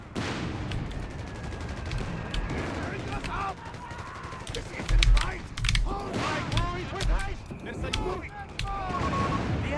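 Battle sounds from the World War II strategy game Company of Heroes 3 with 6-pounder guns and Italian tanks: scattered gunshots, heavy booms and mechanical clanks in a busy mix, with someone talking over the action.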